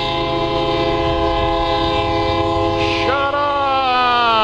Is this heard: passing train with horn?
yes